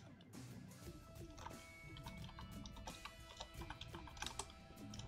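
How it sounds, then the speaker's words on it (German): Someone types on a computer keyboard, with quick irregular clicks and taps running steadily throughout at a faint level, alongside soft Minecraft game sounds. "Oh, da tippt aber jemand"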